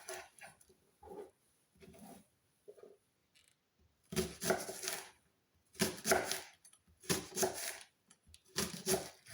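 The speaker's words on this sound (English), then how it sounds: "I'm first going to cut the spring onions" A knife chops through three spring onions at once on a cutting board, giving sparse quiet taps at first, then louder clustered bursts of crisp cutting strokes in a steady rhythm.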